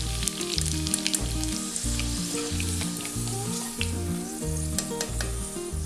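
Chicken 65, coated chicken pieces, deep frying in hot oil at home: a steady, close crackling sizzle with dense bubbling pops and occasional stirring, no talk.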